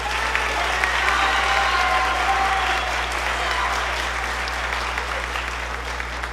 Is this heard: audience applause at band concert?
yes